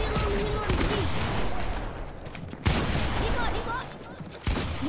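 Fortnite gunfire cracks out in dense, loud, close volleys with sharp reports at several points, mixed with game effects and a voice speaking over it.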